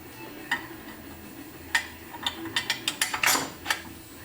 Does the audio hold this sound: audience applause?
no